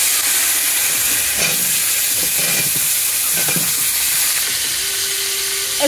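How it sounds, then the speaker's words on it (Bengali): Pieces of raw banana and potato frying in oil in a village kitchen make a continuous, fairly loud hissing sizzle that stays even throughout. "এই তেলের মধ্যেই আমি কলা আর আলুটা ভেজে নেব।"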